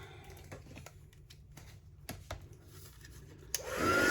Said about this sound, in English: I'm going to take my heat gun.